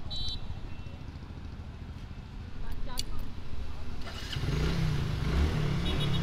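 A motorcycle engine is self-started with the push button after the key is switched on, part of an anti-theft helmet ignition setup; the motor catches and settles into a steady low idle under talk and surrounding noise.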